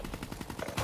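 Rapid automatic gunfire in a video game, a fast stuttering burst of about a dozen close, punchy shots filling the whole moment.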